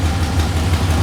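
A 6.0L LS V8 swapped into an S10 pickup runs loud and close with a steady, deep low rumble and a smooth, unbroken idle.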